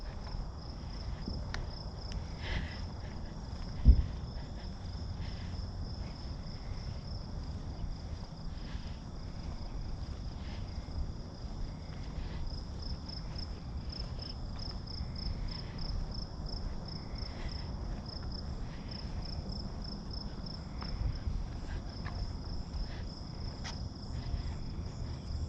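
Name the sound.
crickets chirping at night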